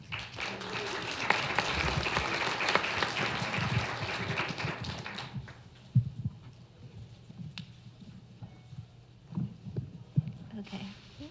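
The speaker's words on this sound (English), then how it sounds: "Let's give them a round of applause." Audience applause for young Native youth leaders at an event, a fairly loud stretch of clapping for about five seconds that stops abruptly, followed by quiet room noise with scattered thumps and handling sounds.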